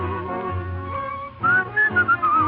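A person whistles a lilting tune alone, clear and close, with sustained notes and short gliding phrases.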